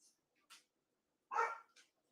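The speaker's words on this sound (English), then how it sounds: "here go the dogs" Dogs bark indoors in a few short, separated yips and barks, somewhat distant and fairly quiet, with one louder bark near the middle.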